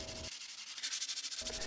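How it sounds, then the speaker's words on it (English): A 3D-printed sword pattern for a bronze age sword reproduction is sanded by hand, producing rhythmic rasping back-and-forth strokes, close and steady, with no voices. "they still needed a lot of sanding to remove the lines made by the printer"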